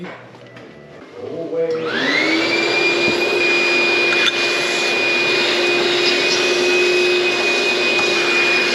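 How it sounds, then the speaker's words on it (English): A vacuum cleaner switches on after a quiet moment, its motor spinning up into a loud, steady whine that continues close by. "how about getting a vacuum cleaner and sucking that out of there?"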